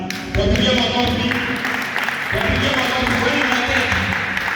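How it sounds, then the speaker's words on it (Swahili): Camp audience clapping for the participants of a group game, a steady burst of applause lasting several seconds, close and fairly loud, with voices talking over it. "Tuwapigie makofi."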